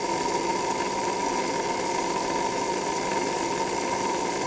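A Magnatraction slot car motor with shimmed magnets runs on a dyno, giving a steady, high-pitched electric whine with a constant buzzing hum, close and unchanging throughout.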